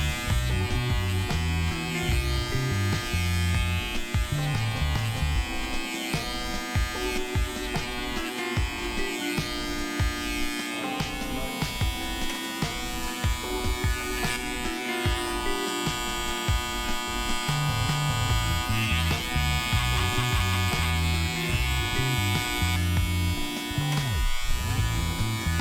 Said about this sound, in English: I'll grab like my Andis outliners.